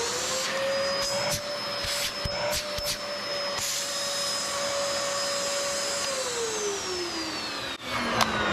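A vacuum cleaner runs steadily and loudly with a constant whine, its pitch dropping slightly near the end as the motor changes.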